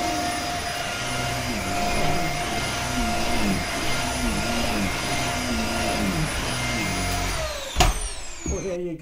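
A Dyson vacuum cleaner with a hole cut in its bellows runs with a loud, steady whine and roar. The pitch shifts briefly near the end as the load changes, then a clunk follows.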